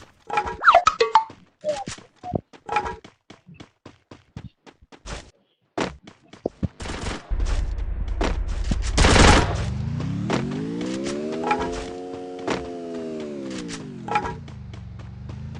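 Gunfire in a first-person shooter game, with several sharp isolated shots early on, then a sustained burst of firing over a rising and falling mechanical whine, loud and close.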